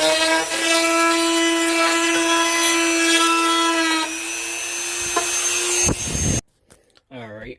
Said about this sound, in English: You want to get your little Dremel and just clean up some of these edges.